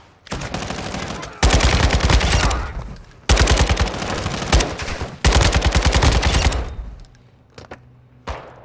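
Heavy automatic gunfire in Call of Duty: Modern Warfare II comes in three loud, sustained bursts of rapid shots separated by short pauses, with a few scattered shots and a trailing echo at the end.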